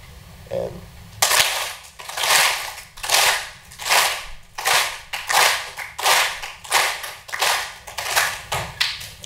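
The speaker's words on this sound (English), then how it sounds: "we'll clap a bunch of times" A group claps together in sharp, evenly spaced bursts, about a dozen in a row at a steady rhythm, loud and close, after a short quiet start.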